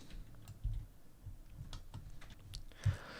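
Computer keyboard keys are pressed during Revit drawing work, including Tab and Delete, as a few faint, scattered clicks at close range in a quiet room, with no talk.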